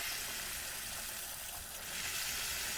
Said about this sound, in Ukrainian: Я прямо так мерзло заливаю гарячою водою